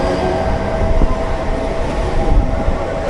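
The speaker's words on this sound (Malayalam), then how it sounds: "ഇത് മുംബൈ CSMT വന്ന ഹാർബർ ലൈൻ ലോക്കലാണ്" A Mumbai Harbour Line local train runs with a loud, steady rumble of wheels and carriages that fills the whole moment without a break.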